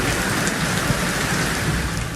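Heavy rain pours steadily on surfaces in Kottampatti, Madurai district, a dense continuous wash with low thunder rumbling underneath throughout.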